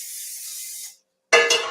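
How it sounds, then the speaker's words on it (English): Cooking spray is shot from a can in a home kitchen in two short bursts: a steady hiss of almost a second, a brief gap, then a louder, sharper second spray, close and with no talk. "I'm just gonna get my 9-6 spray again"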